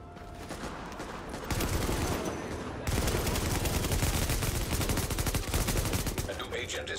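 Rapid gunfire in the shooter video game Tom Clancy's The Division, dense automatic bursts that grow louder and more continuous partway through, sustained with no talk over it.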